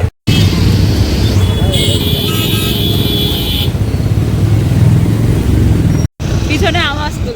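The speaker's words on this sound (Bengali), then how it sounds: "ভগবান কি ভয়ঙ্কর জ্যাম।" Road traffic crawling in a heavy jam, a loud close rumble of car and motorcycle engines with a horn blaring partway through and voices talking over it, briefly cut out twice.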